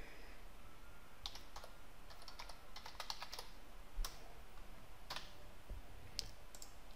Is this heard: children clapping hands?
no